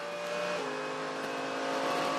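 Onboard a GT race car, the 888 entry driven by Jamie Whincup, braking down into the hairpin at Phillip Island: a loud, steady engine roar close up, whose pitch drops and resettles partway through as the car slows.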